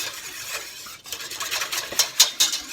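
A utensil stirring milk into a moussaka sauce mixture in a pan, with close, loud scraping and clinking strokes that speed up and grow sharper toward the end, no talking.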